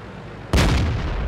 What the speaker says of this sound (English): It's SU-152 there, which misses.